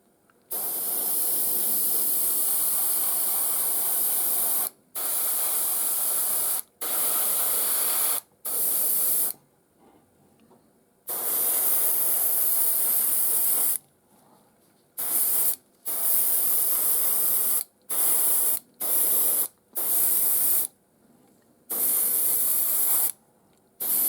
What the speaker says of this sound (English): So what I'm going to do is spray these tractors this basic colour